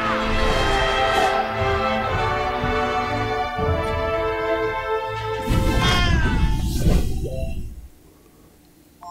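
A kitten in the strategy RPG Waven meows loudly again and again in drawn-out, wavering cries, then falls quiet near the end.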